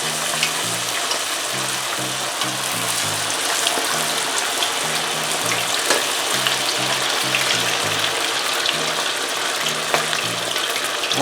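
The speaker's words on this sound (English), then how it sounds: "So I'll start to deep fry them now." Marinated red snapper deep frying in a pot of hot oil, a steady dense sizzle and bubbling that holds evenly throughout, close and fairly loud, with faint low tonal sounds underneath.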